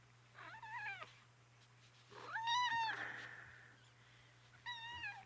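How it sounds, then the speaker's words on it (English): A tuxedo cat meows three times indoors, loud and close, with drawn-out, wavering cries and quiet pauses between them, over a low steady hum. "The tuxedo cat. This one's actually my cat."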